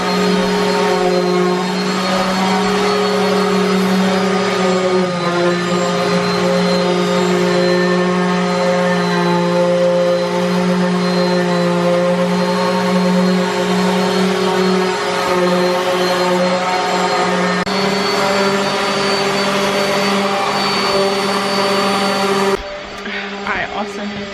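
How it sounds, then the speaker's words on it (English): A constant high whirring drone of a power sander on wooden shelving boards runs on and on, loud and steady, cutting off abruptly near the end. "you can probably hear him in the background. He's already started sanding."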